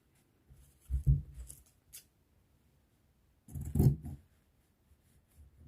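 Scissors snip through taffeta satin fabric in two short bursts of crisp cutting, close and fairly quiet, with brief pauses and small rustles between; no talking.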